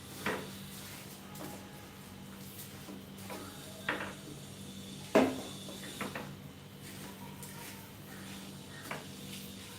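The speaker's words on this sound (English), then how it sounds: "So now I'll be stirring out our rice" A spoon stirs fried rice cooked with tomatoes in a single pot, giving a few scattered scrapes and knocks against the pot over a steady low kitchen hum, with the sharpest clack about halfway through.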